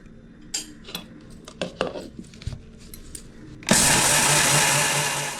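A mixer grinder bursts into a loud, steady whir grinding soaked rice with cardamom for adhirasam batter, after a few seconds of clinking and knocking as the jar is handled.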